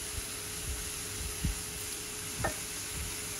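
Cluster beans sautéed with sesame tilkut in a pan, giving a soft continuous sizzle with a few faint stirring scrapes, quiet and close with no talking.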